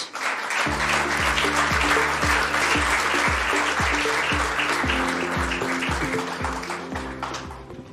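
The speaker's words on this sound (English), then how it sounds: "Please welcome on stage with generous applause Ms. Natalia Bayona" A conference audience applauds steadily to welcome a speaker onto the stage at a tourism forum, dense clapping filling the room for several seconds alongside a rhythmic musical beat, fading slightly toward the end.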